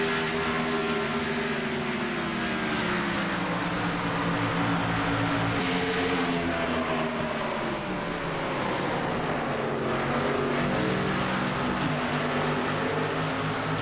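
Race cars lapping Homestead Miami during a practice session, a continuous loud engine drone with shifting tonal pitch as cars pass, no voices.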